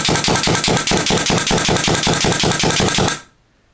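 A Mech Pneu Framed Special Ops Blackcell paintball marker fires one rapid, even burst of about twenty shots. The sharp pops come close and loud for roughly three seconds, then cut off into near silence.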